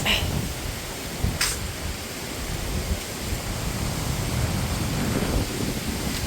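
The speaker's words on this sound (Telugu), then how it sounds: "గాలి అయితే మాత్రం తీవ్రంగా ఉంది" Strong cyclone wind roaring steadily outdoors in a village, a broad continuous rush buffeting the microphone, with a couple of brief sharp noises.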